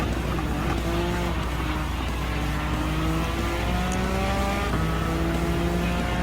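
Race car engines in the Gran Turismo 7 video game drone continuously, several cars revving and shifting gears with rising and falling pitches layered over a loud, steady roar of tires and wind.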